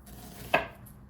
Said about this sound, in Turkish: Biraz kalın kalın doğrayacağım